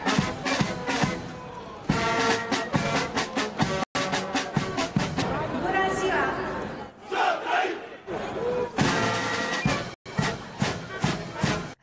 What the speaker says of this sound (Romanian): publicul a început să o huiduie pe Viorica Dăncilă